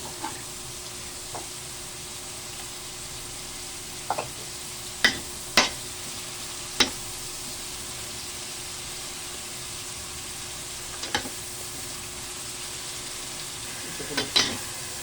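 Pork and chicken gizzards frying in oil as the fat renders, a steady hiss of sizzling with a few sharp clicks and taps of a utensil against the pan scattered throughout.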